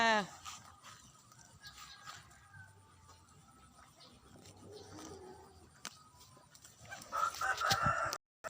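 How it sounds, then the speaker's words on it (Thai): Backyard chickens, with the larger birds kept in a bamboo coop, cluck and call at close range, and a rooster's crow rises near the end. Someone talks over the birds. "นี่ก็ไก่ดิฉันหมดแล้วค่ะ รุ่นใหญ่ก็อยู่ในสุ่ม เจ็ดตัวค่ะ"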